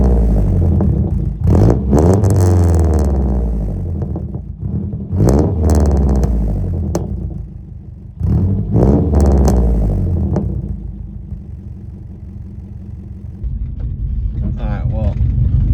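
A car engine revs loudly through its exhaust, close by, in three separate bursts of deep rumbling roar with quieter idling gaps between them.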